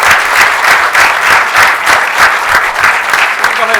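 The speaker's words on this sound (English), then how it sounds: "Round of applause for Chief" A council meeting audience gives a loud, dense round of applause for Chief Serrano, the many hands blending into a continuous close clatter that holds steady throughout.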